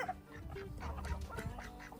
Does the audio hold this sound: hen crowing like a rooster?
yes